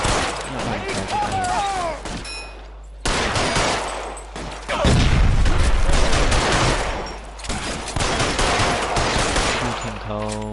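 A shootout in LA Noire brings bursts of rapid gunfire and heavy shots, loud and dense, stopping briefly before resuming, with game voices shouting in between.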